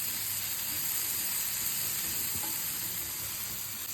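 Mushroom curry with tomato and spices sizzling in a pan, a steady, loud frying hiss that continues evenly throughout without pause.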